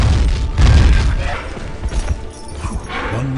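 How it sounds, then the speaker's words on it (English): Heavy wyvern landing in a fantasy radio drama: loud, close booming thuds and crunching impacts with heavy footfalls and rustling, settling into a lower rumble; no one speaks. "The wyverns land, their massive legs absorbing the impact and folding in their wings"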